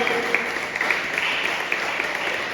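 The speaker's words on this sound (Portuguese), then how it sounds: "Dê uma linda salva de palmas para esse Deus fiel" A church congregation at a Sunday service applauds to honor a faithful God, giving a sustained wash of many hands clapping at an even level, with a few sharper claps standing out.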